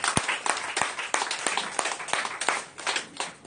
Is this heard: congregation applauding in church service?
yes